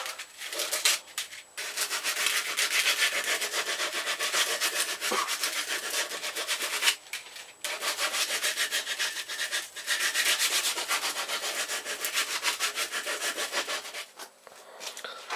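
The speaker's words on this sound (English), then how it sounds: "now you've roughed out your handle, get a bit of sandpaper and start moving it over even more." A wooden pistol crossbow handle being rubbed down with sandpaper, long continuous close-up rasping strokes in steady bursts with short pauses between them, no talk.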